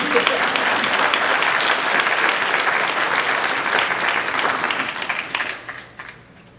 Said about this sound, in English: you can applaud for them